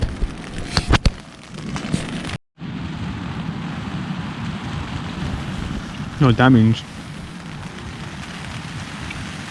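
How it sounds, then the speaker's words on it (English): Rain falls on the fabric of a tent on the Lost Coast Trail, a continuous close patter and hiss throughout, with a few brief bumps and rustles, and a voice speaking briefly early on. "The rain has gotten worse, as you can hear."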